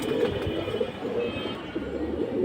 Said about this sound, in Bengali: এই দেখেন বাবু কবুতর